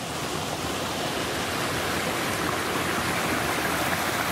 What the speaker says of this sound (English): As you can see, the river heads off underground at this bit.